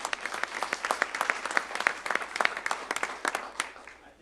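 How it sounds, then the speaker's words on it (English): Applause from a modest audience at an NCTC Board of Regents meeting, individual claps clearly separated and irregular, fairly close and moderately loud, fading toward the end. "they have to give you a big round of applause"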